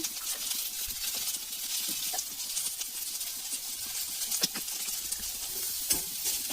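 Spices, ghee-style paste of ginger and cumin powder, fry in a pan with a constant sizzle while a spatula scrapes and stirs in irregular clicks and scratches, close up and without speech.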